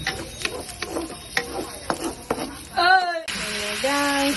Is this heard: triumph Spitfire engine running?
no